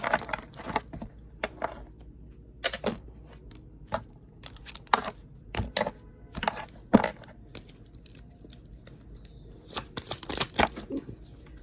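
Tarot cards are shuffled in repeated quick bursts of riffling and flapping, close and clear, separated by short pauses.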